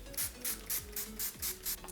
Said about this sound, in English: I'm going to use NYX Cosmetics Dewy Setting Spray all over my face to get rid of that cakiness